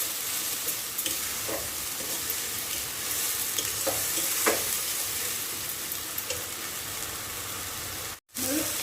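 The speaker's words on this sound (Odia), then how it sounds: "ଅଦା ରସୁଣର କଞ୍ଚା ଗନ୍ଧଟା ଗଲା ପର୍ଯ୍ୟନ୍ତ ଆମେ ଏବେ କଷିବା।" Continuous hiss and sizzle of ginger-garlic paste frying with onion in a pan, with occasional scraping stirs, close and steady, then a brief dropout near the end.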